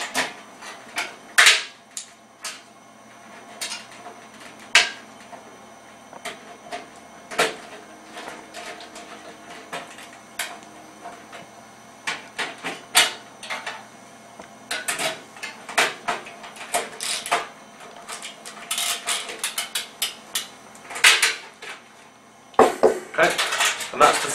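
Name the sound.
tightening bolts with 8mm socket and Phillips screwdriver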